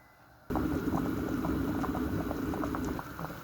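Water pours into a pot holding chicken and rice, a steady, loud, close rush of liquid that starts abruptly and runs on with a bubbling, splashing texture and no talk.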